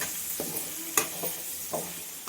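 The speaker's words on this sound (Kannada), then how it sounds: "ಇದೊಂದು 2 ನಿಮಿಷ ಹಂಗೆ ಫ್ರೈ ಮಾಡ್ಕೊಳ್ಳೋಣ" A finely ground spice powder fries in a pan for chicken pickle: a low steady sizzle broken by a few sharp scraping stirs of a spoon against the pan.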